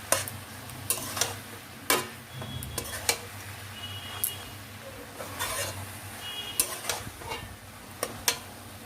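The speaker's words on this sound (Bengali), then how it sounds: "এবার এটাকে আমি নেড়ে চেড়ে ভাজা ভাজা করে নেব।" Beto shak greens sizzle gently in a pan as a spatula stirs and flips them, giving scattered close clinks and scrapes against the metal, with no talking.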